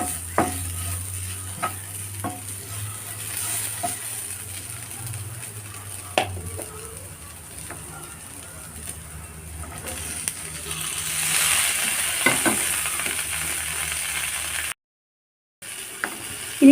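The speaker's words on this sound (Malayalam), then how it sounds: "ഇനി ഇതിലേക്ക് മത്തങ്ങ ഇട്ട് കൊടുക്കാം." Pumpkin pieces sizzling and frying in a pan for a pumpkin and potato stir-fry, with steady crackle, occasional clinks and stirring sounds, and a brief silent gap near the end.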